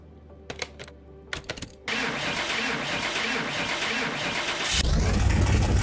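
A car engine in Car Mechanic Simulator 2021: a few clicks and brief starter cranks, then the engine catches and idles steadily, rising to a louder, rougher rev near the end; close and clear, no talk.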